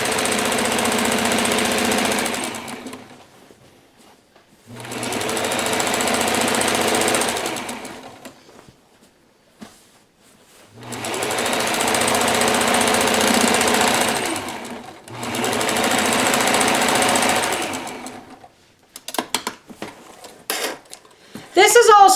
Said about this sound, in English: now going to sew right down the center.